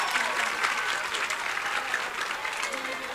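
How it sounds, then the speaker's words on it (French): A crowd applauds two schools at a semifinal of a school games event, steady dense clapping throughout, fairly loud and close, with a voice audible underneath. "Applaudissez pour les deux écoles-là."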